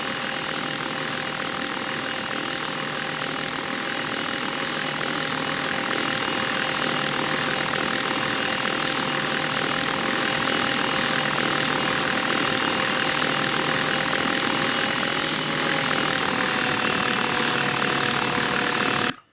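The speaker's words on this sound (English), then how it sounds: "this is a scale helicopter" A continuous whirring rotor and engine whine of a scale RC helicopter in a flight simulator game, steady and fairly loud, with a slight pitch dip near the end before cutting off abruptly.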